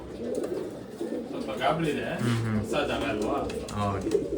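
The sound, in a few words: pigeons cooing and moving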